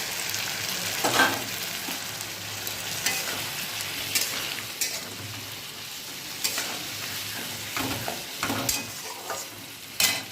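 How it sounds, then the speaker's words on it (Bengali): Vegetables fry in a pan, now with a paste of green and dried chillies, giving a steady bright sizzle with repeated stirring scrapes and occasional louder spatters, no voices. "এদিকে সবজিটাও ভাজা হয়ে গেছে"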